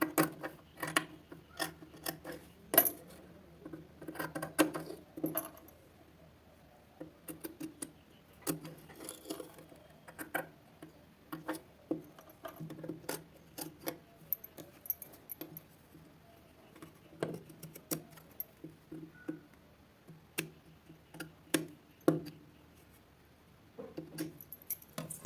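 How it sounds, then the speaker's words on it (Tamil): Scissors snip through cloth while cutting a neck design in a tailoring lesson, a string of short crisp cuts in irregular bursts with quiet pauses between, close and alone with no talk. "ஸோ நான் இதை வந்து கட் பண்ணி காட்டுறேன்"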